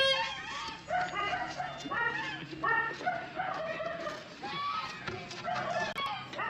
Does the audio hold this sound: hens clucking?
yes